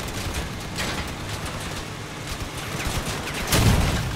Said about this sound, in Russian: Я, короче, стреляю.